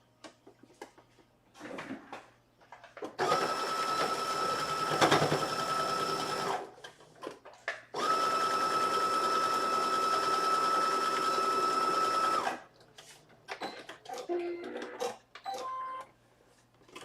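A sewing machine stitches a fabric hem in two sustained bursts of rapid, even whirring, near and clear, separated by a short pause, with quieter handling clicks and rustles before and after.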